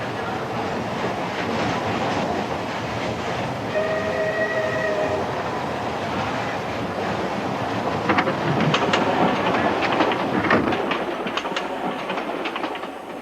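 Railway train rolling through Ecuador, a loud, close, continuous rumble with rattling carriage noise and clattering wheels, a brief tonal horn-like blast partway through, and heavier clanking surging near the end.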